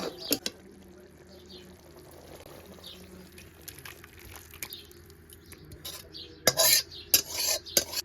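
A spoon stirs and scrapes through a prawn and taro curry in a pan, with soft clinks of metal and a faint sizzle; the scraping grows louder near the end.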